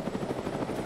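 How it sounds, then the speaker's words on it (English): Helicopter rotor chop from ARMA 3, a steady rhythmic thudding with engine whine, close and continuous for about a second with no talking. "Okay, take us in your helicopter."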